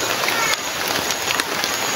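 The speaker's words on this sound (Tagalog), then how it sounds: "Lakas na ng ulan." Heavy rain pours down steadily as a dense, loud hiss, with no break across the whole stretch.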